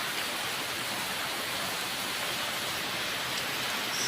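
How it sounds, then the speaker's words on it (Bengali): Heavy late-monsoon rain pours steadily onto a rooftop where water is pooling, a dense, even hiss of drops that stays loud and unbroken from start to finish with no voices. "শ্রাবণের শেষ দিকে এসে ভালো একটা বৃষ্টি হচ্ছে"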